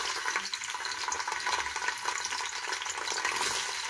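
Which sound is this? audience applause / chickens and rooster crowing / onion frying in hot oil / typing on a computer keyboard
onion frying in hot oil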